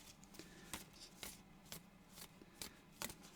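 Reflection cards being shuffled by hand, a steady run of crisp riffling bursts repeating about twice a second, close and fairly quiet with no talk.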